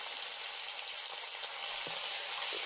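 Hidol fish and onion frying in hot oil over a village cooking fire, a steady dense sizzle that holds evenly throughout, with a couple of faint stirring taps near the end.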